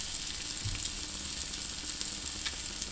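A whole pomfret fries in masala in hot oil, giving a loud, continuous sizzle and crackle close up, with a little stirring and no voices.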